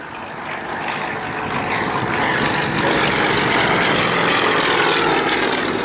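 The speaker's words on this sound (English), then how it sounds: "So we see Dave Boardman coming in for a little bit of solo aerobatics." A propeller aerobatic display plane flying solo aerobatics at the Cosford air show roars steadily, swelling from moderate to loud as it nears, with no talk.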